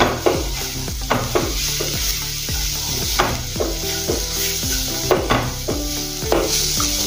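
A filling for aloo paratha, with red chilli powder and turmeric, is stirred in a pan in quick, rhythmic scraping strokes. A soft sizzle runs beneath, and music plays in the background with no talking.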